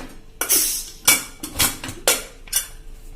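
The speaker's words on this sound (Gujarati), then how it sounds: "તો હવે આપણે કુકર ખોલી લઈએ અને જોઈ લઈએ।" A pressure cooker lid is unlatched and lifted after cooking Gujarati toor dal, giving about six sharp, close metallic clanks and scrapes in an irregular rhythm, with no talking.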